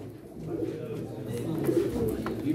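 A female pigeon coos steadily at a pigeon auction, soft low throaty calls repeating over a constant background murmur of the auction crowd.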